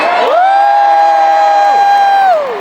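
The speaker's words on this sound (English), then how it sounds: "Give me a cheer." Arena concert crowd at a musicals show cheers and whoops on cue, a loud sustained roar with a rising high-pitched shout held over it before fading.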